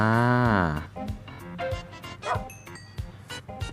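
Minecraft dog yipping and barking in a survival game, a drawn-out whining yelp followed by a run of short, close barks and yips at an uneven rhythm.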